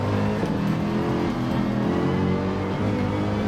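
Race cars in Gran Turismo 7 roar at full throttle, a loud, steady, continuous engine drone with a slight rising and falling pitch and no talk over it.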